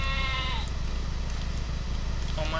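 Sheep bleat in the online game Lord of the Rings Online, a wavering call at the start and another near the end over a steady low game-music and ambient hum.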